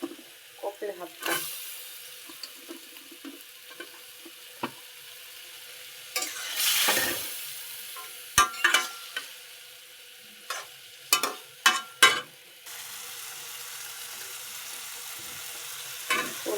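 Cauliflower and mixed vegetables sizzle in a pan under repeated spatula stirring, with sharp scraping strokes and clinks breaking through a low, steady frying hiss at close range.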